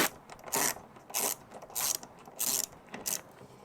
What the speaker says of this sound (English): So basically just unscrewing random bolts.